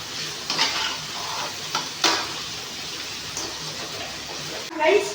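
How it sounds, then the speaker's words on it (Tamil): Onion and tomato sauté in a pan for chicken gravy, giving a steady soft sizzle broken by occasional scraping stir strokes. A louder stir comes near the end. "வெங்காயம் தக்காளி நல்லா வதங்கிடுச்சு"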